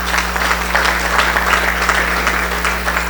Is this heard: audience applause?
yes